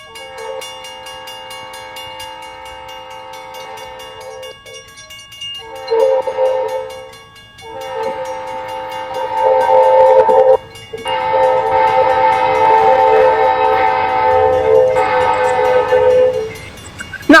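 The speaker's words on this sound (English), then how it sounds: "All right, Aiden, blow that horn, baby" An Erie Lackawanna train horn sounds in loud, sustained multi-tone blasts, several long notes broken by brief pauses and building to a strong final wail, close and clear with no talking.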